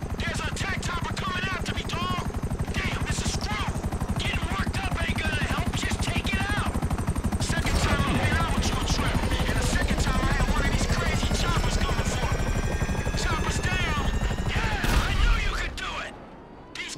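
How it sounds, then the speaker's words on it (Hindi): A helicopter in the video game GTA 5 during a heist, its loud, continuous rotor thudding mixed with bursts of gunfire and explosions throughout, fading out near the end. "हेलीकॉप्टर भी आ गया."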